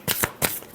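Tarot cards shuffled in a few quick, close riffling bursts, brief and crisp with no talk over them.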